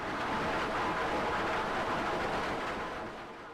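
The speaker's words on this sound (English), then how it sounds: "This is the sound of rocks on a conveyor belt at Specialty Granules." Metabasalt rocks travel along a quarry conveyor belt at Specialty Granules, making a dense, continuous rumbling roar with a gritty hiss that holds steady, then fades slightly near the end.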